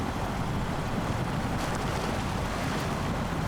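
Heavy truck in SnowRunner pushing through deep water in low gear with the differential locked, a steady loud wash and rumble of churning water with no break across the whole stretch.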